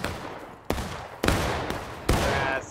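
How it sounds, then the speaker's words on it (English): Musket volleys in the Civil War shooter War of Rights, three sharp loud shots spaced roughly half a second apart, each trailing into a rumbling echo over a noisy battlefield background. "I'm just shooting right now"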